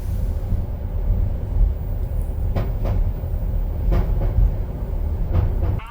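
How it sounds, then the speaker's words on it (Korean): The Wolmi sea train runs along its elevated seaside track between stations, giving a loud, steady rolling rumble from inside the car with a few sharp knocks and rattles, and no talking. "바다열차는 월미 바다역을 출발해서 월미공원역, 월미문화의 거리역, 박물관역 3개 역을 통과하는데요"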